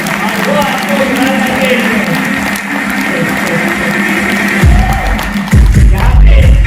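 Loud, sustained applause from a crowd at a Modicare gathering in India, steady throughout with heavier low thumps near the end as clapping swells.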